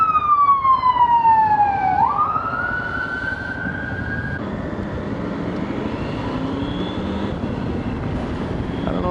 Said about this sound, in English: There's an ambulance coming, so we'll just let her go.